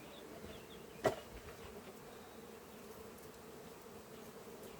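Many honeybees hum at a hive in a faint, steady drone throughout, with one brief click early on.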